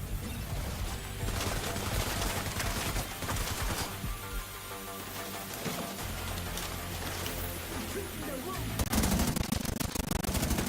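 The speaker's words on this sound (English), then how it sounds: "Somebody's shooting at me." Rapid automatic gunfire and scattered shots fill a firefight in The Division 2, dense and continuous for several seconds with bursts overlapping and a louder crash near the end.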